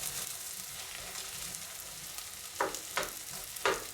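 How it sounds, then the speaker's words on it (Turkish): Lentils fry with chopped potato and onion in a pot, a steady close sizzle with three sharper stirring scrapes near the end and no speech. "Şimdi bu aşamada doğradığımız patates ve soğanı da ekleyip beraberce"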